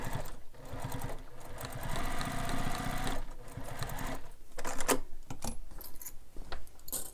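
A sewing machine stitching around a handmade carryall bag, its steady rapid needle chatter running close and continuous with brief slowdowns and a few metallic clinks, no talking.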